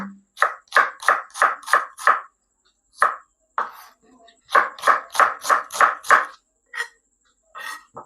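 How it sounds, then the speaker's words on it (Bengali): A knife slices onions on a cutting board, crisp rhythmic chops in two quick bursts of about six strokes each, with a few scattered cuts between and after, close and clear. "এরপর আমরা পেঁয়াজগুলো স্লাইস কেটে নেব"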